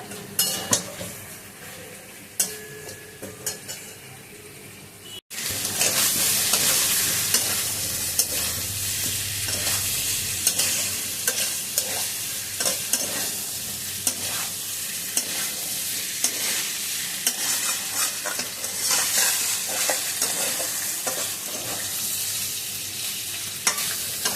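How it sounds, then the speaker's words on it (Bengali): Spice paste sautéed on low heat for a potato and cauliflower curry, first faint pan noises, then a loud steady sizzle with continuous rhythmic stirring scrapes and spoon clinks. "গ্যাস কমিয়েই মশলাটা কষাবেন তো মশলাটা পুড়ে যায়"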